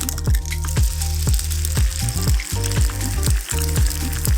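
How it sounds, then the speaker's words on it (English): An egg frying in a hot pan greased with a teaspoon of butter gives a steady bright sizzle, with a low repeating rhythmic clatter running underneath throughout. "Crack your egg on the side of the pan."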